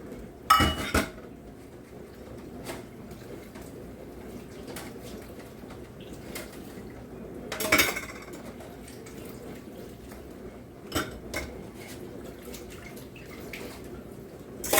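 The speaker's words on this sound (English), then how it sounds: "I'm going to go ahead and do up these other dishes" Dishes, pots and cutlery being washed in a home kitchen sink, with scattered clinks and clatters of plates and utensils over a steady faint wash of running water, a few louder knocks standing out.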